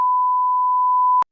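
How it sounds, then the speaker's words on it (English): A censorship bleep covers a spoken name: one steady, pure electronic tone, loud and unbroken for just over a second before it cuts off abruptly into silence. "We're just going to beep it out every time he says it."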